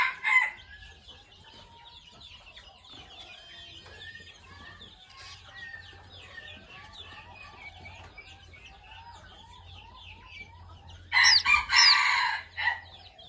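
Jungle fowl chicks about 45 days old in their pen, peeping and chirping softly throughout, with a louder flurry of clucking near the end and no talk.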